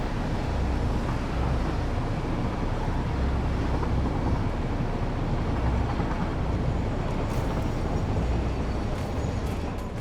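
A train in the video game Satisfactory rumbles along steadily, a loud continuous mechanical roar with no pauses.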